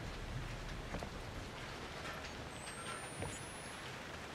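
Steady rain in the video game Outlast 2 hisses evenly in the background with a soft, constant patter and no voices.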